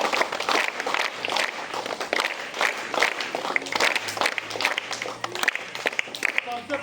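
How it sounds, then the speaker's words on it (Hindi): Students in a school gathering clap loudly for a former pupil who passed the JPSC exam, busy sustained applause with scattered sharp claps and some voices mixed in. "एक बार जोरदार तालियां बजाइए।"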